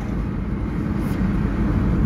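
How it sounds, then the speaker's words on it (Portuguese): Heavy trucks, including long double-trailer rigs, roll along a highway in slow traffic, producing a steady loud low rumble and road roar with a faint whine above, no speech. "Grande movimento de caminhões."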